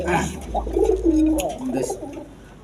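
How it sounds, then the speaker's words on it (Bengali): A pair of Kagzi pigeons cooing close by, a few soft throaty warbling coos in a row, with a little background noise. "কাগজি কবুতর আছে দেখেন"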